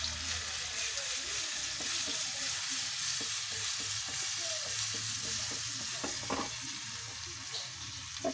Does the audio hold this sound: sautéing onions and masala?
yes